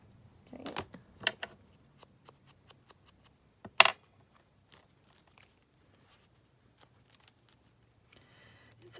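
Scissors snipping through paper for a glue book page, a few sharp close cuts early on, then sparse faint clicks and rustles in an otherwise quiet room.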